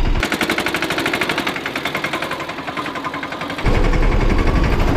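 A tractor engine, just started, chugs in a fast, even, loud rhythmic beat, then shifts to a steadier, rougher roar near the end.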